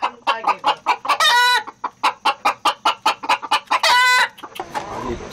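Baekbong silkie chickens raised in a Korean mountain village cluck close by in quick rhythmic bursts, broken twice by longer drawn-out squawks, with no voices over them.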